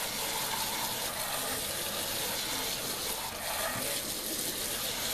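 Makeup brushes are rinsed of soap under a running tap, a steady, close hiss of flowing water that continues throughout without pause or talk.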